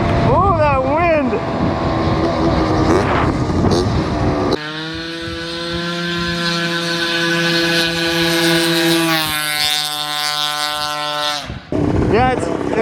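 A 120cc Honda Dio two-stroke scooter engine revving hard while riding, its high buzzing tone climbing and dropping through the gears, loud and close, with wind noise.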